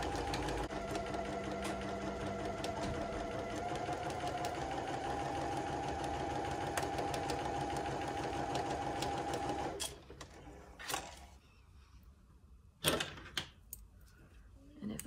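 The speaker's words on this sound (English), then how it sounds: "taking it over to the sewing machine" A sewing machine stitches a quarter-inch seam on quilt pieces, running in a steady rapid mechanical whir for about ten seconds, then stopping, followed by quieter handling clicks and thumps, with some talking in the background.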